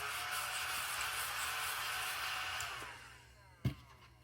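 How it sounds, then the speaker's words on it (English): Small vacuum cleaner running with a steady, loud whirring hiss that winds down after about three seconds, followed by a single sharp thump near the end. "we're just gonna vacuum this off real quick"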